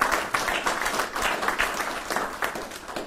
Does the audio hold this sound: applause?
yes